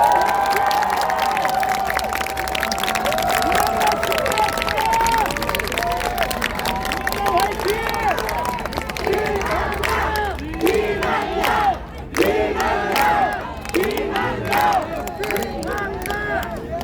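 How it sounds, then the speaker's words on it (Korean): Crowd at a street election rally near Gangnam's Seoul Express Bus Terminal subway exit applauds and cheers loudly and continuously, with shouts and chanting voices layered over the clapping, close and dense throughout. "자, 박수 한번 주십시오."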